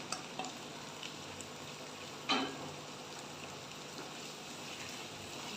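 Ginger and garlic paste frying in a pan gives a quiet, steady sizzle. There is one sharper scrape or clatter partway through and a few soft ticks near the start.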